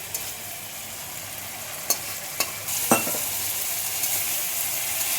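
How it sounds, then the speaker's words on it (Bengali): Spice paste fries in oil with potato and teasel gourd in a pan, a constant sizzle under several sharp scrapes and clacks of a stirring spoon, growing a little louder partway through, with no talking. "আলু কাঁকড়ের সাথে মশলাটা ভালো করে কষিয়ে নেব দেখুন ঠিক এইভাবে কষিয়ে নিতে হবে"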